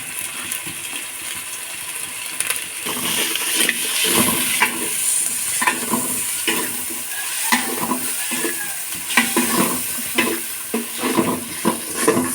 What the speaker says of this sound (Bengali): এখন আমরা মশলাটাকে খুব সুন্দর করে কষিয়ে নেব।